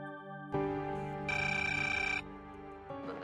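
A telephone rings indoors in a Marathi TV drama scene, a clear electronic ringtone with a sustained tonal burst in the middle, fairly close and with almost no talk over it.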